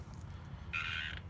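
A frog calling from inside a bush outdoors: one short, harsh, buzzy croak in the second half, moderately distant over a low background rumble, with no talking.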